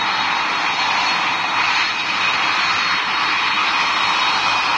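Steady, loud airplane engine drone from a taxiing aircraft in a flight simulator game, a constant broadband roar with a high whine holding unchanged throughout, no voices.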